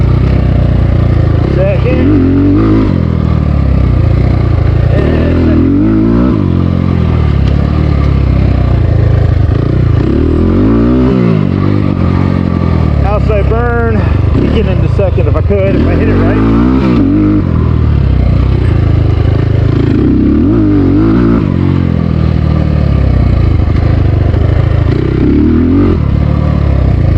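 SSR 300 motorcycle ridden through first and second gear, the engine loud and close with rising and falling revs and clatter, someone talking over it much of the time.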